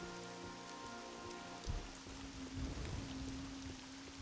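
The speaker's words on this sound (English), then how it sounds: "We're going in the rain." Steady rain falls in the Elder Scrolls III: Morrowind world, a soft continuous hiss of drops on surfaces with faint low tones and a few thuds underneath.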